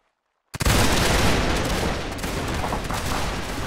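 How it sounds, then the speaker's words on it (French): Musket volley fire in a line-battle video game: after a short silence, a sudden massed crackle of many muskets breaks out and rolls on as a dense, sustained fusillade, loud and close, with no talk over it. "Feu à volonté, tirez tous une balle."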